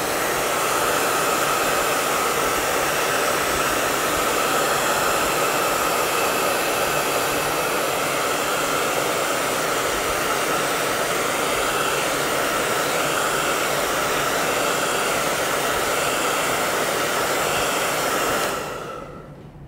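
A hair dryer blows on fresh varnish, giving a loud, steady, close whir that runs unbroken for about eighteen seconds before it cuts off at the end.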